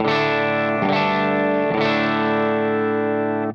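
Electric guitar chords ring out with mild, gritty distortion and a shimmering effect, struck a few times and left to sustain.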